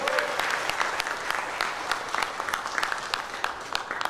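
A church congregation claps together in praise, a dense steady wash of many hands with scattered sharper claps standing out, with faint voices underneath throughout.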